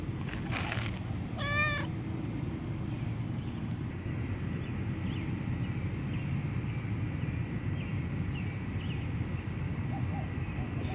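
A domestic cat gives a short, clear meow with a wavering pitch early on, heard close over a steady low background rumble and wind-like hiss, with faint chirps later.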